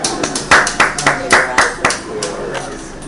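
A few hands clap in an uneven rhythm at a 107th birthday gathering, sharp close claps that come in quick bursts and then taper off, with people talking faintly underneath.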